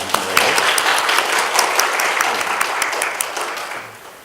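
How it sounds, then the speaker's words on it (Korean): A large church congregation applauds together, dense and continuous clapping filling the room before gradually fading toward the end. "하나님께 감사의 박수를 한 번 더 드렸으면 좋겠습니다"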